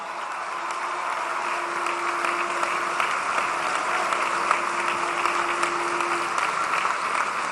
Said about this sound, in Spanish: Un aplauso, un abrazo al presidente Andrés Manuel López Obrador.